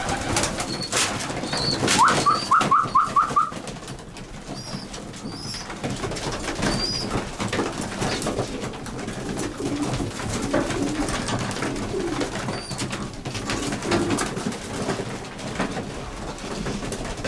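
Racing pigeons coo softly and repeatedly nearby while being fed, with a quick burst of whistled notes early on and occasional rustling.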